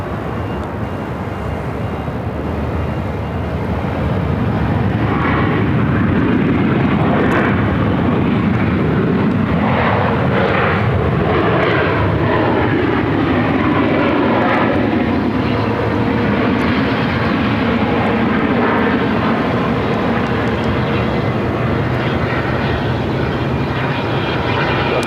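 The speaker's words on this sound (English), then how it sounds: "Southwest Flight 396 coming in from Portland on a MAX 8." A Southwest Airlines Boeing 737 MAX 8 comes in to land at Phoenix, its jet engine whine growing louder and sweeping in pitch as it passes close by, then a long, steady roar that trails off slowly.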